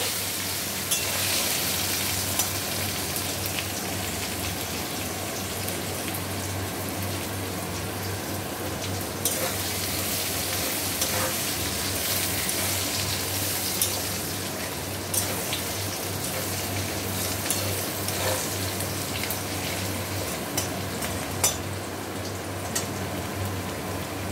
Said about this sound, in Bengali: আলু আর রসুনটা খানিকক্ষণ তেলের মধ্যে নেড়ে নেব